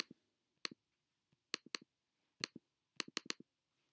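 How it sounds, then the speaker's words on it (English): Sharp mouse clicks come in small clusters, often doubled, close and crisp against near silence. "I don't know how to get rid of that click on here. It's the mouse."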